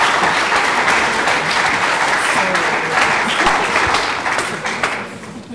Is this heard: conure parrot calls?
no